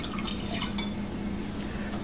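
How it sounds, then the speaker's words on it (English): Half a cup of water poured into a pot while making Indian masala chai, a steady close trickle and splash running the whole time with no talk. "1/2 cup of water. Add it to your pot."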